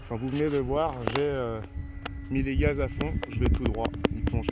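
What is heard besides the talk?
No everyday noise stands out behind the speech.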